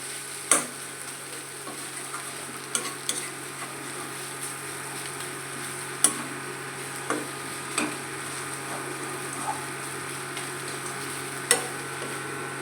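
Greens with spices, beetroot and a little carrot fry in a kadhai, a soft steady sizzle broken by occasional sharp scrapes and taps of a spatula stirring, close and without talk.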